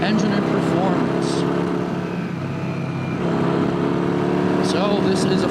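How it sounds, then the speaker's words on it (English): A Yamaha Virago 535cc V-twin motorcycle with debaffled pipes idles and revs, a loud, steady rumble that swells and dips while a voice talks over it. "So this is a 535cc V-twin."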